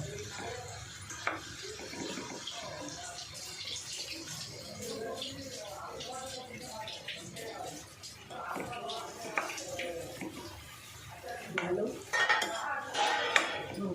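Quick pickle being mixed in a bowl, with repeated clinks and scrapes of a spoon against the bowl alongside wet stirring, and a voice talking over it throughout.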